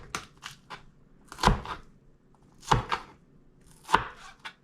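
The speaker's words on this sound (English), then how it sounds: "Next, clean up and cut down a bunch of green onions." A knife chops a bunch of green onions on a cutting board in a home kitchen, prep for Kentucky and Chongqing style dry fried chicken. Sharp, close chopping strokes come in three quick bursts with short pauses between them.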